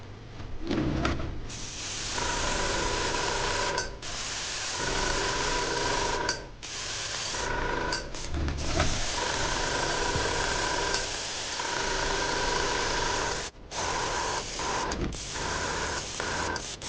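Airbrush spraying Vallejo flesh wash at reduced pressure onto a 3D printed Wolverine figure, a steady close hiss that holds for long stretches with brief breaks between passes.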